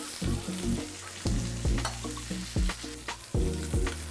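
Lamb shanks sear in a hot pan, a steady sizzle broken by repeated sharp clatters and knocks as the meat is turned and shifted, close and clear with no voices.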